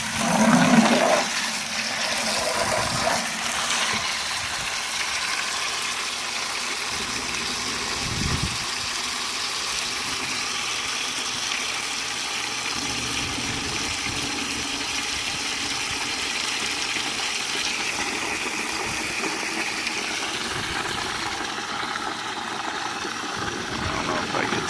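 Water gushing steadily through a hose or outlet during a pressure and flow test, a continuous broadband rush that holds level for the whole stretch while people talk briefly over it.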